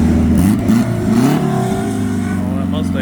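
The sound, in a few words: Ford Mustang revving and accelerating at a car meet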